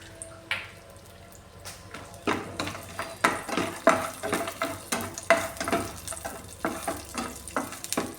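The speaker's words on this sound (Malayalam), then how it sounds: "ഇതിലേക്ക് ഈ കാശു മുന്തിരി കൂടി ഇട്ട് കൊടുക്കാൻ" Cashews and raisins frying in homemade ghee, loud close sizzling with repeated stirring scrapes in an irregular rhythm that builds after a quieter start.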